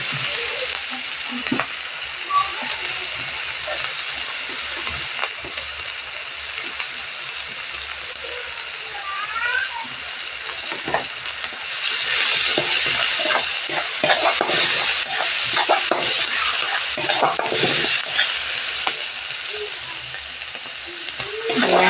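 Drumstick flowers sautéed and stirred in a pan, a constant hiss of frying with repeated scraping stirs that grow louder and busier midway, close by, without speech.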